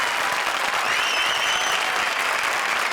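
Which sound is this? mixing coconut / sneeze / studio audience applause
studio audience applause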